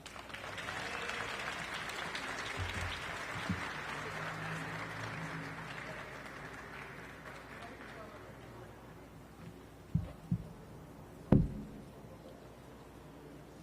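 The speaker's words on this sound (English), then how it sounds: "Another round of applause for Sonia." An audience at an outdoor Latino Heritage Month celebration claps in sustained, even applause for about nine seconds, then it thins out and a few sharp, loud knocks land near the end.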